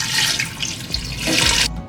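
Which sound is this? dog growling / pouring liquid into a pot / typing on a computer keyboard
pouring liquid into a pot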